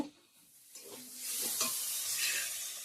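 Cauliflower fries in a pan, starting quiet, then a sharp sizzle rises with a few scrapes and settles into a steady hiss close by.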